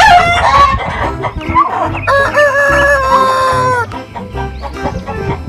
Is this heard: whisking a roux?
no